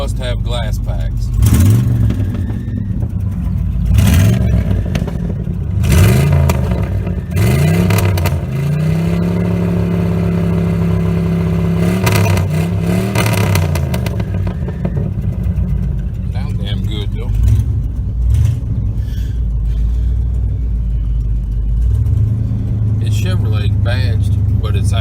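A GMC truck fitted with glass pack mufflers revs repeatedly, its engine note rising and falling in loud bursts with a throaty rumble, while people talk over it.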